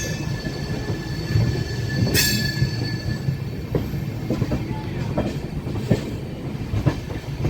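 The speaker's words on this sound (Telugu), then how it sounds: "మొత్తం ఆ చివరికి వెళ్ళిపోతుంది చూడండి బండి." A new Amrit Bharat 2.0 express train rolls past a station platform at Tenali junction, its wheels rumbling and clacking steadily over the rails, with faint squeals and occasional rattles, close and continuous.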